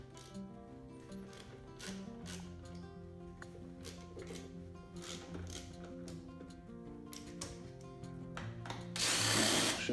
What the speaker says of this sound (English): start undoing the bolts that hold on the actual valve cover